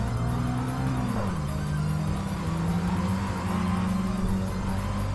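Engine revs drop sharply as a car upshifts and scrapes a wall in Tokyo Xtreme Racer Drift 2, a loud steady video-game engine drone with a falling pitch step, no talking.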